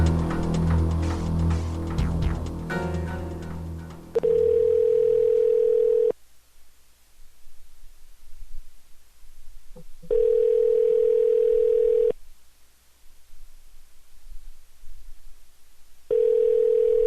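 Steady telephone dial tone sounding in three separate two-second bursts, loud and clear, with silent gaps between them and some indistinct noise beforehand while an alternate number is being called.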